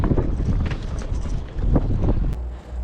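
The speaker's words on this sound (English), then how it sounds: "we was fighting the wind the whole time" Gusty wind buffets the microphone on a boat out in the Gulf of Mexico during fishing after Hurricane Idalia, a steady loud rumble that swells and dips for about three seconds, with no speech.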